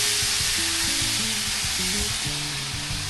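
Shrimp and chicken sizzle and fry steadily in a hot pan as they are stirred together, a close, continuous crackling hiss with scraping from the stirring, no talking.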